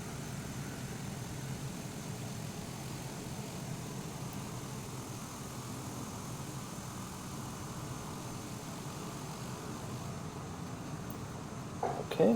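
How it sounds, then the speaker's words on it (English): The turboprop engine of a Daher TBM 930 in a flight simulator runs as a constant low, rumbling drone, unchanging and moderately loud throughout, with a small bump of noise at the very end. "when I have started the engine"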